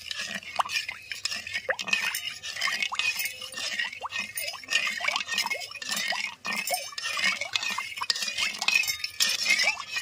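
Spoon clinking against a bowl while stirring sugar and agar agar powder into milk for a raw mango milk pudding, a steady run of close metallic taps and wet swirls, no talking.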